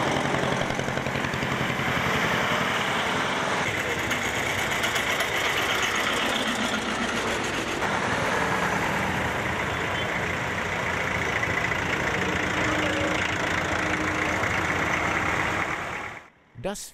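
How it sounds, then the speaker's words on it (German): Old tractors with Deutz three-cylinder diesel engines run together at a village anniversary festival, a steady chugging, idling engine drone with mechanical clatter, held at moderate distance before cutting off near the end. "Nach dem Mittag starteten die Traktoren zu ihrer Rundfahrt durch Berbersdorf und Schmalbach."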